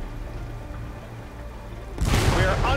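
Tank cannon shot in the World War II game Battle Tanks, a sudden loud blast that cuts in after a low engine hum and trails off in a rough, crackling rush.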